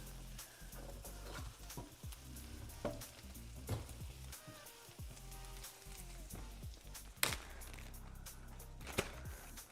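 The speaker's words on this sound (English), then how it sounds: "Stir these onions again." Onions fry in a pan and are stirred, giving a soft steady sizzle broken by scraping and clattering stirring strokes close by, with no talking.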